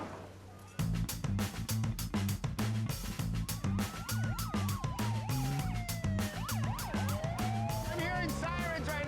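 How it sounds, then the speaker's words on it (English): Police sirens wail and yelp in rising and falling sweeps over a pulsing, rhythmic beat, loud and close, several sirens overlapping toward the end. "I'm hearing sirens right now."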